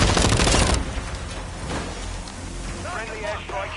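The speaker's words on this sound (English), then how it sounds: "Friendly airstrike in the AO." Friendly airstrike in a Modern Warfare video game, heavy rumbling explosions and dense rattling gunfire filling the whole stretch, loud and continuous with no clear pauses.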